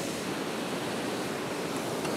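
Ocean surf breaking on a fishing shore, a dense, steady roar of wash filling the whole stretch without a pause, loud and near with no voices.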